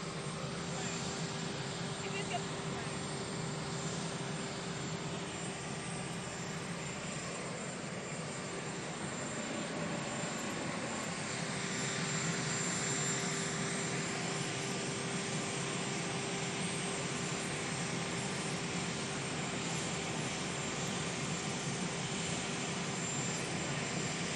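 Aircraft engines run on the tarmac as the President boards Air Force One, a steady droning whine with a sustained tone, moderately distant and unchanging, with faint voices beneath it.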